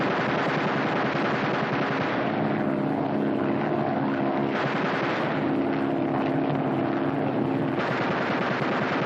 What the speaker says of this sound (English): Fire 3 bursts each in rotation.